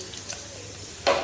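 Whole garam masala, small cardamom pods, cinnamon and cloves sizzle in hot oil left from frying pointed gourd, a soft steady crackle with a sharper burst of spattering near the end.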